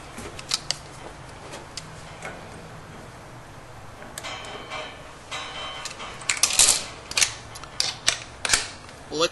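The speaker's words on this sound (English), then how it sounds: "And now we're going to remove the tubing that goes to the pilot itself." Metal clicks, ticks and small tool sounds while pilot tubing is taken off a Bradford White 40-gallon gas water heater that won't light, scattered and irregular, growing busier and louder toward the end.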